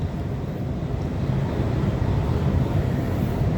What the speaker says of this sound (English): Oh, there goes a T1 train to Richmond.